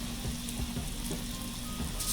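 Jamaican fried dumplings bubble in a pot of hot oil with a low, steady sizzle and soft crackling heard up close, and nobody speaks.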